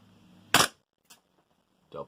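A Walther PPQ airsoft pistol by VFC (Umarex) fires a sharp close crack, followed by a faint quick click and then a second, softer shot, with short silences between them.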